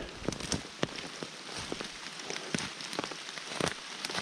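Quiet rain patters in a forest, irregular drops tapping nearby leaves over a soft continuous hiss.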